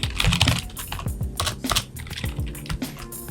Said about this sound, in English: Having trouble typing.